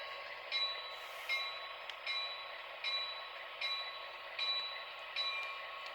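Model trains roll along the track with a steady hum and regular clicking at the rail joints, repeating roughly every second, no voices.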